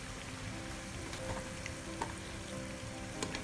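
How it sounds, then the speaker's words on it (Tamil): Potato vada (medu vadai style) frying in oil over a medium flame, a steady close sizzle and crackle with no talk. "மெத்தட் இதுல ஃப்ளேம் மீடியத்துல வச்சு தான் நான் ஃப்ரை பண்றேன்"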